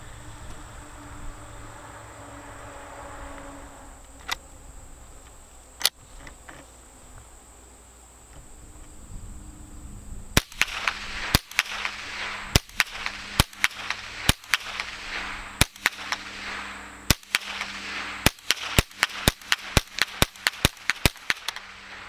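A Winchester Model 74 rifle fires 14 rounds outdoors, each shot a sharp crack. After a quiet stretch of insect and cricket chirping, the shots come in a steady string, with the last several fired closer together.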